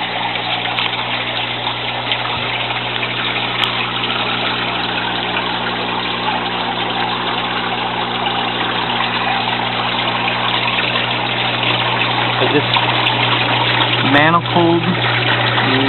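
A continuous mechanical hum of a water pump running in an IBC aquaponics system, with the low drone of circulating water, steady and loud throughout.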